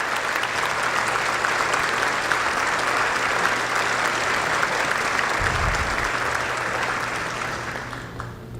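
A breakfast crowd at a school district event applauds nonprofit leaders and city officials, a steady wash of clapping from many hands that carries on for several seconds and tapers off at the end, without talking.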